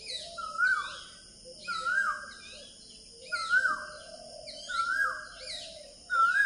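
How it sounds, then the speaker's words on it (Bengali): An Asian koel calls again and again at a quiet riverside ashram by the Ganges and Ajay confluence, a clear rising whistle about every second and a half over soft background hum. "কোকিল ডাকছে।"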